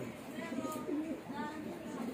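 Soft, low cooing from a racing pigeon, a few rolling calls repeated over a steady background hum.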